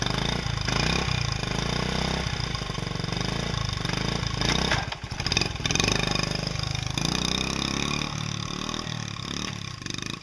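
A 1978 Honda CT70 motorcycle idles nearby with a quiet, steady putter that lasts throughout, its engine note wavering slightly and dipping briefly near the middle.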